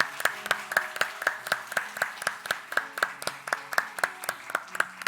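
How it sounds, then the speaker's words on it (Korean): A church congregation stands and claps together in blessing during a Sunday morning worship service, with steady, evenly spaced handclaps running the whole time at a moderate, unhurried pace and no talking. "잠깐 그 자리에 일어나 주시면 축복의 박수를 나누겠습니다."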